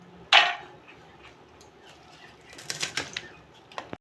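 A knife chops sada shak leafy greens on a board in a few sharp taps. One loud cut comes first, then a quick cluster of lighter, close chops near the end.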